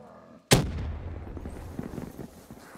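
A grenade bursts in Call of Duty custom zombies with World at War weapons: one sharp, loud blast followed by a rumbling, decaying tail.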